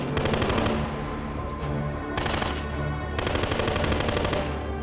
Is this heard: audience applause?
no